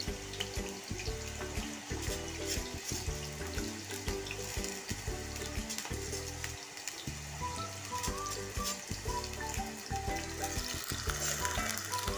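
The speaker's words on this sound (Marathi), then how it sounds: "तर चला मग आपण पहिल्यांदा बटाटे फ्राय करून घेऊया" Potatoes frying in oil for sabudana khichdi, a continuous bubbling sizzle with a watery, rushing texture that holds steady throughout, close and moderately loud with no talking.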